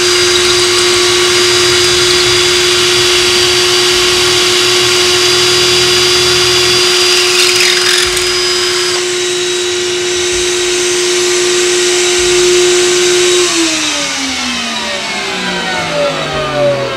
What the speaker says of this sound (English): So just with this little dust extractor, absolutely zero dust, zero chips come out when I pull out the drill.